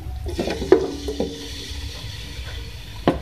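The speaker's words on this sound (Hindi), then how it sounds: "सबसे पहले मैं ऑयल में हाफ के-जी बीफ का गोश्त ऐड करूँगी" Half a kilo of beef going into hot oil for a beef, potato and pea tahiri, giving a steady sizzle with a few sharp stirring and pan clatters, close by and with no talking.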